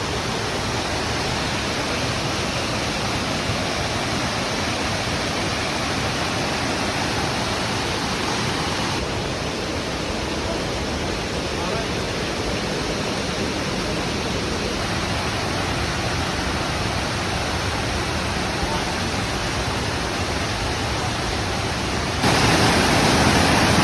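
Atla waterfall, running with less water than usual over rocks, roars as a loud, dense, unbroken rush close by, holding steady for the whole stretch with no voices.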